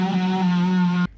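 Power tool cutting an opening in a boat for a B&G Triton display: a loud, steady, droning whine with strong harmonics, heard close, which stops abruptly at the end.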